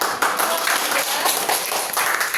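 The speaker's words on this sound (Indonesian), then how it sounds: "Tepuk tangan untuk Mbak Nadia." Classroom applause during a mathematics microteaching lesson, a steady dense patter of many hands clapping at once, close and fairly loud, continuing evenly throughout with no break.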